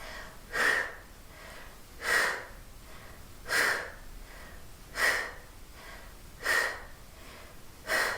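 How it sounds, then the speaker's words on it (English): Six short, sharp breaths are pushed out through the mouth during a pelvic floor and low-ab exercise, evenly spaced about a second and a half apart, close and quiet with soft background between them. "Exhaling, short, sharp exhales."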